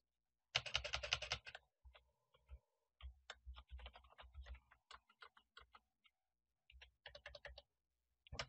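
Computer keyboard typing during Excel work, quiet close key clicks arriving in short irregular bursts separated by pauses.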